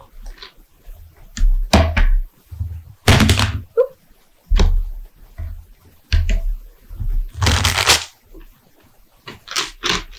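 Tarot cards shuffled by hand in irregular bursts of riffling and soft slaps, broken by dull thumps as the deck is tapped and squared, close and fairly loud with no speech.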